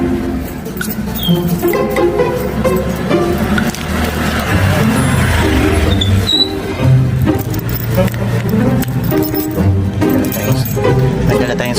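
Keys jangle while a door is unlocked, a clattering metallic rattle under a busy, loud background with a voice nearby.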